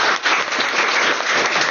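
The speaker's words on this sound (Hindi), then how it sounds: "ताली बजाइए" Students in a coaching class clapping together, a brief dense burst of applause that fills the room evenly from start to finish.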